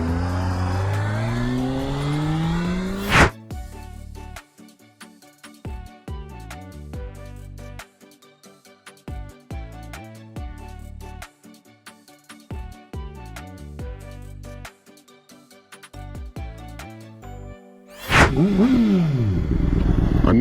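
A 2007 Honda CBR 600RR sport bike, rebuilt after a wreck, is ridden on a test run. Its engine revs repeatedly in rising and falling surges with brief lulls between gear changes, and a voice is heard at the start and end.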